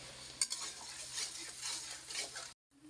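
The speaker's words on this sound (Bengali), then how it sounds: "দিছি পেঁয়াজ, পেঁয়াজটা একটু ভাজে নিই" Chopped onion frying in oil in a pan for a mixed-vegetable labra curry, a soft continuous sizzle broken by a few scraping stirs and a light clink of the spoon, then a short silence.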